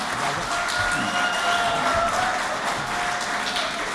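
Sustained audience applause at a mushaira poetry gathering, dense steady clapping from a large crowd filling the hall for the full few seconds, no speech.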